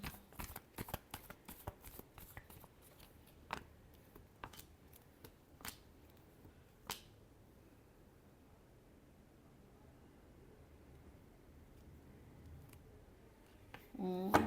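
Tarot cards riffled and shuffled by hand, a quick burst of crisp flicks and slaps at first, then scattered single snaps with quiet gaps, close and fairly soft, ending in a louder rustle.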